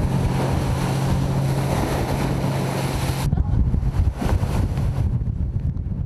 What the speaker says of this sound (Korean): 그러나 바다는 거친 파도와 강한 바람으로 대양호를 맞이했다.